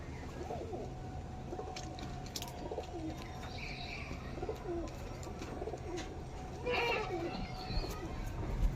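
Pigeons at a pigeon sale and show in Howrah coo in soft, repeated low calls, some near and some farther off, mixed with chirps and background chatter from people speaking nearby.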